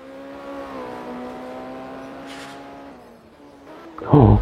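An NSU race car engine at full throttle on a rally stage, a steady high drone that shifts pitch as it accelerates, then a loud close burst at the end.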